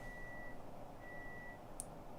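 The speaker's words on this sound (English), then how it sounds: "I was just listening to the beep of the microwave" A microwave oven gives two long, steady electronic beeps, each about half a second, heard faintly through a quiet room with a low background hum.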